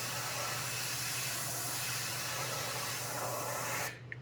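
Continuous close airbrush hiss spraying paint steadily onto a figure's clothes for several seconds, then cutting off abruptly near the end.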